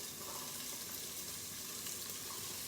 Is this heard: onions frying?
yes